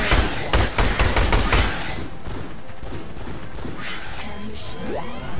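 Rapid submachine gun bursts in the shooter game Orion: Stegosaurus, loud and close for about two seconds as a fast stuttering volley, then fading into quieter background rumble and scattered game sounds.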